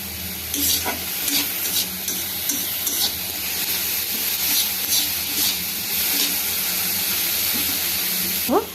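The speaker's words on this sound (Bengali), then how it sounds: "দিয়ে দিচ্ছি পরিমাণ মতো নুন, একটু নাড়িয়ে নিয়ে একটু" Mushroom and vegetable soup with salt being stirred in a pan, with a steady sizzle and hiss and repeated spoon strokes scraping through the contents, close and continuous with no talking.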